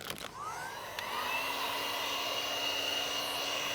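Heat gun warming vinyl wrap on a Tesla Model 3 Performance bumper, a steady close blowing whine that rises slightly in pitch and holds continuously, with no talk.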